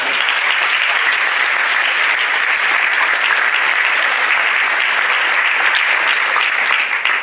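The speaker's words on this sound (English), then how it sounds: "stand up and have a round of applause for you as well" Sustained, dense applause from faculty and admin standing in a Cherry Creek High School gathering during a signing day event, steady and loud throughout with no break.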